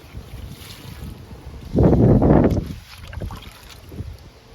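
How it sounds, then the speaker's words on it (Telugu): Strong wind gusts roar against the microphone in a garden, swelling into a loud rumbling blast for a moment before easing back to a steady outdoor hiss. "విపరీతంగా వస్తుందండి గాలి."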